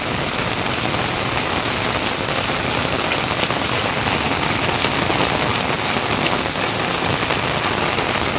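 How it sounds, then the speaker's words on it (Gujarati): The season's first rain falls on a village in Bajur, a heavy, even patter of drops on the ground and surfaces that stays loud and unbroken, with no voices over it. "પહેલો જ અમારે આ ગામમાં વરસાદ છે બજુરમાં."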